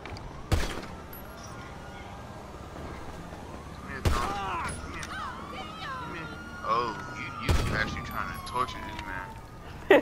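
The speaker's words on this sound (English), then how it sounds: "I'm shooting on the shotgun." Shotgun blasts in a video game, three sharp loud booms spaced a few seconds apart, heard over a steady bed of game noise and babble.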